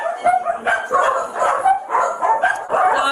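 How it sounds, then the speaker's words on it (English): A crowd of more than fifty dogs kept indoors in hazardous conditions, with repeated close barks and yips overlapping in quick bursts. "Inside, investigators find more than 50 dogs living in hazardous conditions."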